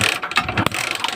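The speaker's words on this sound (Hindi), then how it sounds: "और किक प्रेस करेंगे तो इसमें कंप्रेसर हमारा बनाने लगेगा" A motorcycle kick-starter is pressed during a check for a loose kick, giving a short burst of close mechanical clicks and ratcheting clatter with a sharp knock partway through.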